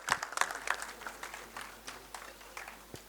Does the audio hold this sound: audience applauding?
yes